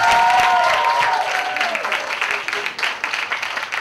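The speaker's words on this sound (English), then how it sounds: "give a big round of applause to her" Audience applause at an event presenting designers and Indian Princess pageant contestants, a loud, dense crowd clapping that swells at the start and then continues steadily, with faint tonal sounds over it early on.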